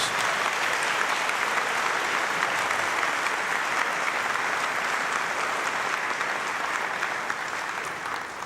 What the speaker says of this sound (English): Can we please have one more round of applause for all of our generous scholarship donors?